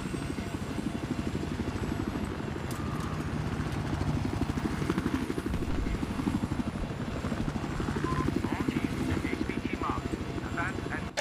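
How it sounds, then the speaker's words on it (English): A helicopter in the Battlefield 4 video game, set in Shanghai, drones steadily with a dense rotor chop throughout, mixed with gunfire and other game noise as a player talks over it. "I'm trying to get that chopper."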